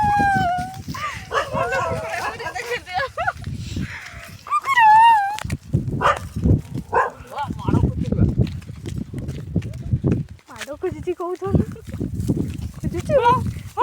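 A village dog barks in short bursts, mixed in with lively chatter and shouting from people heading to a pond to bathe, with footsteps and movement nearby.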